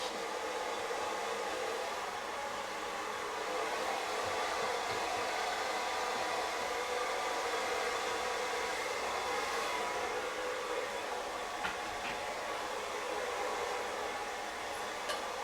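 A hair dryer blowing steadily on a high fan setting with low heat, a constant close whooshing roar that holds unbroken throughout, alone without speech.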